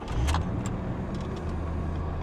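A 1988 Chevrolet C4 Corvette engine cranks with a brief burst, then settles into a steady, close, low idle rumble.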